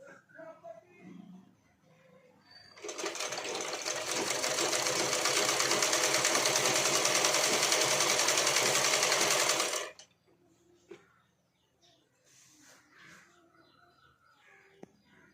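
A sewing machine runs steadily for about seven seconds stitching leftover fabric pieces, a loud rapid whirring rattle that starts and stops abruptly, with quiet background sounds and a crow cawing around it.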